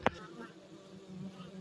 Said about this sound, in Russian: Видите, пчелки полируют литочек.